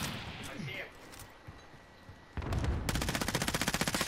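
Gunfire in the video game Call of Duty Modern Warfare Warzone, quieter shots at first and then a loud, rapid automatic burst with a steady rhythm of closely spaced reports.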